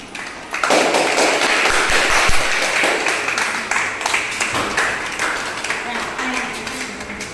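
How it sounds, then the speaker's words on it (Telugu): Children in a school classroom clapping together, a loud burst of many hands that thins into scattered, uneven claps and taps over several seconds. "క్లాప్స్ కొట్టండి."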